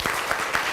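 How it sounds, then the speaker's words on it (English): Classroom students clap together in a brisk burst of applause, dense and close, lasting under a second with no talking over it. "Clap for him."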